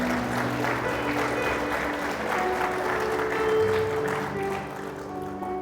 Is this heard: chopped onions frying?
no